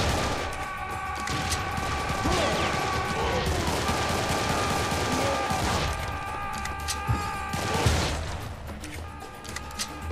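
Rapid gunfire in Serious Sam 3 crackles in dense bursts over chaotic game noise and a droning background, with a few heavier sharp shots standing out and a voice speaking briefly.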